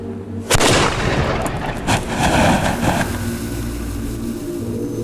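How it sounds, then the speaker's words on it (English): A fire trump, a hand-held firework weapon, ignited at its touch hole to shoot out small stones and metal shards, giving a sudden loud blast followed by a sustained roaring, crackling burn under low rumbling noise. "They will then ignite the second stage charge via the touch hole at the back of the trump, shooting out small stones and shards of metal at the target."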